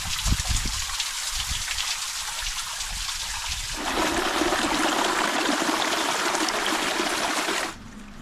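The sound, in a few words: hot spring water flowing from rocks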